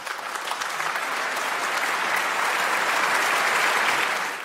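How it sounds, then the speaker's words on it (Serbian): A club audience breaks into sustained, dense applause that swells slightly and holds steady before ending abruptly, with no voices over it. "Molim jedan veliki aplauz"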